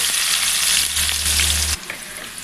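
Sliced onions fry with garam masala powder in hot oil, giving a loud, steady close-up sizzle that abruptly drops to a quieter crackle near the end.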